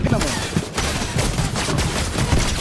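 Rapid gunfire rattles through a video game match, dense bursts of loud shots crackling continuously while a voice talks over the action.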